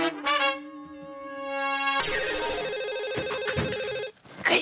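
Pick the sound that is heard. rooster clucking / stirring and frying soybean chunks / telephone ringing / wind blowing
telephone ringing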